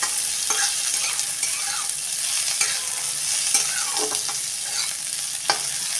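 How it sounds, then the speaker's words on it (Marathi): Sliced onion sautéing in a pan, a steady close sizzle broken by soft scrapes of a spoon stirring through it, with no talking. "कांदा आपण थोडा वेळ परतून घ्या"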